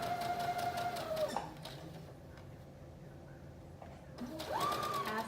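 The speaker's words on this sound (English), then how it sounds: "you're going to stitch on the edge of that 1/4 inch all the way around" A sewing machine stitches a quarter-inch pressed hem around a wrap dress sleeve: a whirring run of close stitching, a quieter pause, then a second whining burst of stitching near the end.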